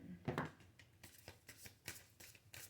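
Oracle cards being shuffled by hand, a run of soft papery riffles and slaps in quick bursts, close and quiet, with no talking.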